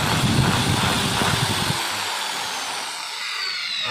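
An inexpensive electric drill whirs loudly for about a second and a half, then winds down to a faint hiss, with no voices.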